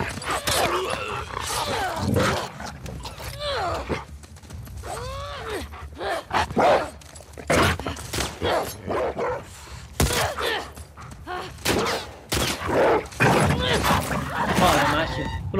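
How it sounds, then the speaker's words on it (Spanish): A dog in the video game The Last of Us Part II barks and whines in short bursts, several times, mixed with a person talking excitedly over the game sounds. "Lo bien que lo había hecho y estaba el puñetero perro ahí"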